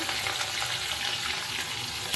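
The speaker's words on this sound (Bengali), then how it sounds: "মাছটাই আগে ভেজে নিই পুঁটি মাছগুলো" Many small puti fish fry together in a wok, making a dense, loud, close hiss and sizzle that runs continuously without pause or speech.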